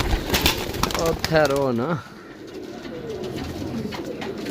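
Pigeons coo in a loud, close, wavering call that ends abruptly, followed by softer cooing and murmuring against a background of talk in a pigeon-keeping setting.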